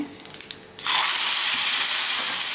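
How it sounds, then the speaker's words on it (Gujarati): After a few soft clinks, a sudden loud sizzle erupts as hot tempering hits Gujarati toor dal, then holds as a steady, close hiss. "વઘાર આપણે કર્યો છે એને આપણે દાળમાં એડ કરવાનો છે"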